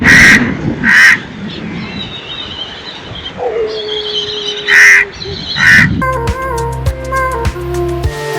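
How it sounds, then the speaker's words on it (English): Crows caw loudly in pairs of harsh calls by a river at a delta point in Udupi, India, with other birds and a low drawn-out tone in between, then bright chiming music takes over. "Lots of birds all around, calm river vibes."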